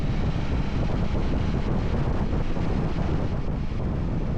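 Strong, steady wind buffets the microphone while riding a Yamaha Tracer 9 GT motorcycle past open fields on a very windy day, a loud continuous roar with no voices.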